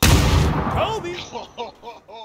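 A grenade blows up in PUBG, a loud, broad boom that rolls out and fades, followed by several short tonal sweeps.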